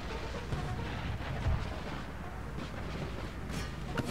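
Cannon fire in the Empire: Total War battle game, heard as a continuous rumble of distant artillery booms with a few heavier thuds standing out, alone with no talk.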